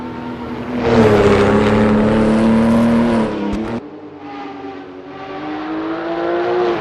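Porsche 935 K3 race car engine in a Le Mans 1985 racing game, a loud, close, sustained high-revving roar with a brief cut near the middle, then it pulls hard again.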